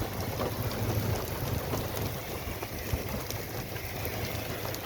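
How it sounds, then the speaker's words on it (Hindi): Steady, dense downpour of heavy rain in Oman, a constant broadband hiss with scattered drops and splashes, no voices. "ज़ोर शोर से जो है वो बारिश इस वक्त बरस रही है।"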